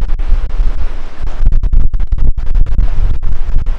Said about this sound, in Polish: No i ten wiatr strasznie szumi.